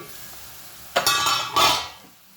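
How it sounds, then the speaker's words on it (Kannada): Onions frying in a pan while cooking okra palya: a quiet background hiss, then two loud bursts of sizzling and stirring that fade away. "ಸ್ವಲ್ಪ ಈರುಳ್ಳಿಯನ್ನು ಚೆನ್ನಾಗಿ ಹುರಿಬೇಕು"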